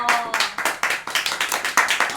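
Hands clapping rapidly and evenly, roughly ten sharp claps in a couple of seconds, close and fairly loud during a lively group livestream chat.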